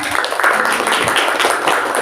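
A classroom of students claps their hands together in a dense, steady burst of fast overlapping claps lasting about two seconds, fairly close and filling the room.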